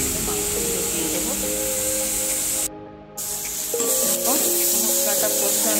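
Spices fry in oil in a pan with a loud, steady, close hiss that cuts out briefly and then resumes, as a voice talks over it.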